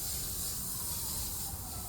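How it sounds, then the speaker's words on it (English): Lawn sprinklers spray water across the grass of Hart House Circle at the University of Toronto, giving a steady, close, broadband hiss that holds unbroken for the whole stretch with no voices. "You're hearing the sound of the sprinklers spraying the grass in the Hart House Circle at U of T"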